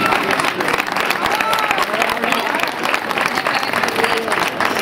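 Dense audience applause at a New Year's Eve San Silvestre race prize draw in Abarán, steady and loud throughout with no pauses.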